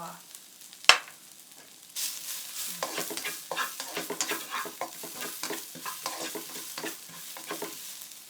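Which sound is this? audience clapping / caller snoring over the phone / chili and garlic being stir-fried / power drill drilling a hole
chili and garlic being stir-fried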